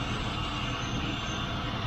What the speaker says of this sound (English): Right now it is idling on wood gas.